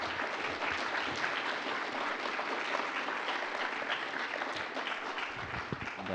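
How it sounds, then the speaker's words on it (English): An event audience applauds its sponsors with dense, sustained clapping from many hands at a moderate, even level that continues throughout. "A round of applause for our sponsors."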